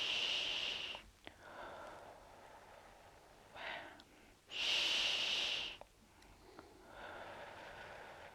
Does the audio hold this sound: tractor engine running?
no